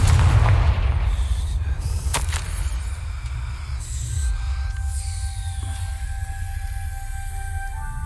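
Fire spell explosion in Hogwarts Legacy, with a heavy booming blast at the start that rolls into a low rumble and fades under a sustained tonal game ambience.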